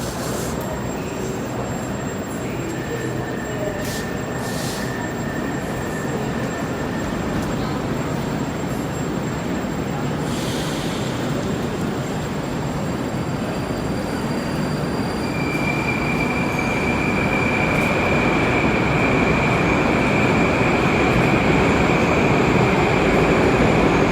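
A Moscow metro train at Pushkinskaya station rumbles steadily and loudly for the whole stretch, with a broad roar growing slightly louder near the end and thin, high wheel squeals drifting in and out.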